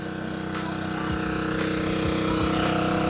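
A noisy engine drives an irrigation water pump at a shallot field, a loud, steady, rattling drone with a fast regular chug that runs without pause, close by and alone.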